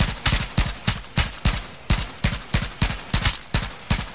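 Rapid bursts of gunfire in the battle royale game H1Z1, about a dozen sharp, loud, evenly spaced shots ringing out in quick rhythm with no talking over them.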